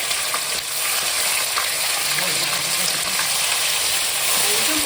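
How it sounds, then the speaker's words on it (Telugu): Ginger garlic paste fries in hot oil with cumin seeds, giving a steady, loud sizzle with scraping spoon strokes at close range. "వేగిందండి అల్లం వెల్లుల్లి పేస్ట్ మంచిగా"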